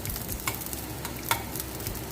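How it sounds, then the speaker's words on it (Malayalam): Fenugreek, curry leaves and spices dry-roasting in a pan with grated coconut for a northern Kerala-style breadfruit masala curry, giving a soft steady sizzle with a few light scraping stirs, close and moderately quiet, no voices. "ഉലുവ അവിടെ ഇരുന്ന് വറന്ന് വരുന്നുണ്ട്"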